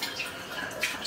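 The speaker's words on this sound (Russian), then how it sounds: "Придется по крану добавить" Water running from a kitchen tap into a container, a steady close hiss with faint dripping splashes throughout.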